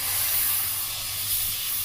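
Spray paint hissing steadily from a can or airbrush while texturing a piece, a close, continuous airy spray with a slight pulse and no talk.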